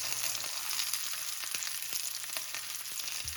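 Green tomato slices fry in a pan with a continuous close crackling sizzle, dense and even throughout with small pops, and no voices.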